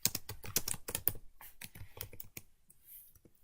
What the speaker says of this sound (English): And I'm going to put number of records.